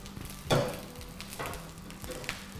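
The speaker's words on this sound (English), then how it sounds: "we can hear a lovely sizzle there." Quiet sizzling of sausages frying in a pan in a cookery school, with a few louder spits and crackles standing out from the steady hiss.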